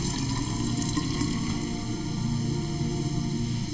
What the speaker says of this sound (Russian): сразу наберем воды